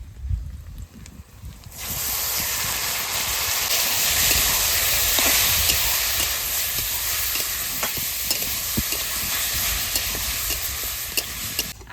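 Sliced bitter gourd drops into hot oil with frying onion and chilli. After a quiet moment a loud sizzle erupts and keeps hissing steadily, with small clicks of stirring close by.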